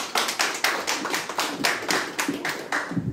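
Short burst of scattered hand clapping at a youth suicide prevention panel discussion in Korea, a small group applauding briefly with distinct individual claps as a speaker is welcomed.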